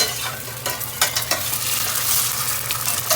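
Scrambled eggs are stirred and sizzle in a stainless steel pan, with soft scraping strokes over a steady frying hiss, close and fairly loud for a few seconds.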